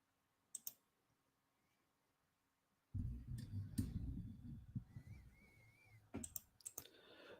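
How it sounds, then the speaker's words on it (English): Typing on a computer keyboard during a live stream, with a few isolated clicks at first, then a close burst of rapid key presses and clatter, ending in scattered clicks. "Let me just type it."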